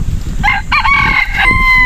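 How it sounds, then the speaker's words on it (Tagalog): A rooster crows nearby, a loud drawn-out call with rising and falling harmonics, over steady low background rumble, outdoors where wild junglefowl are being lured. "Tilaok ng tilaok."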